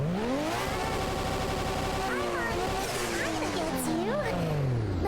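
A car engine and exhaust rev steadily and loudly in a video game, a sustained droning roar with rising and falling pitch sweeps, heard close and continuously, with faint overlapping sounds and no clear speech.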